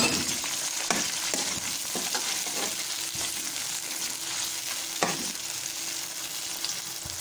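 Tomato paste fries and is stirred in a pan of stuffed round gourd, a steady close sizzle with periodic scraping strokes of the spoon and a few clinks against the pan, no voices.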